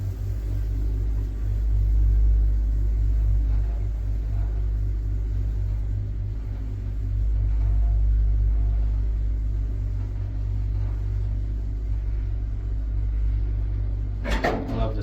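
An old Kone traction elevator in a Lahti apartment building runs with a steady low rumble and hum, its vibration droning evenly for the whole stretch, with a brief clack near the end.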